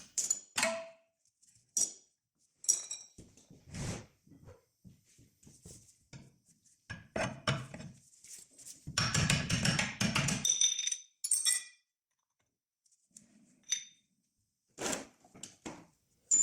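A flat screwdriver pries a metal cover off the rear hub of a VW Tiguan during a wheel bearing job: scattered close metallic clicks, taps and scrapes with quiet pauses between them.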